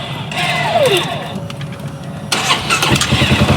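A Polaris vehicle engine cranks and fires into a rough idle on a bush camping trip in the Pilbara, Australia, loud and close, with a brief voice over it.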